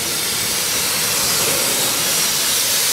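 A pet grooming blower roars steadily while a matted rabbit is clipped, a loud, constant broadband rush of air that stays even and unbroken throughout.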